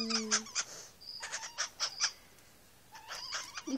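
A two-month-old green aracari toucan chick gives a series of short, high squeaky calls in quick bursts, close and fairly clear, with a brief pause partway through before more calls follow.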